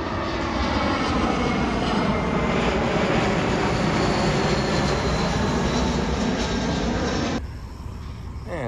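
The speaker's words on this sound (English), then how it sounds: "I want to feel the breeze from these planes going overhead." Airplanes passing overhead near Atlanta's airport roar loudly and steadily with a sweeping jet whine, then cut off abruptly near the end.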